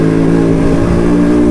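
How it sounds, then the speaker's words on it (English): A restored Yamaha RX two-stroke motorcycle engine revs steadily and loudly up close, a continuous buzzing drone with no talk over it. "Damn, that two-stroke sounds beautiful,"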